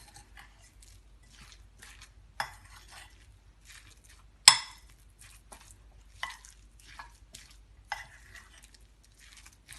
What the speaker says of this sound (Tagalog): at ihalo lang natin ng mabuti